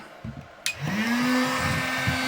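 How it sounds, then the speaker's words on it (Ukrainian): A 2 kW construction heat gun powered by a DATOUBOSS PSW 2000W 12V/220V inverter switches on with a click, then blows with a steady whining fan and airflow roar that holds on, close and moderately loud. "От фен будівельний ми включаємо на 2 кВт."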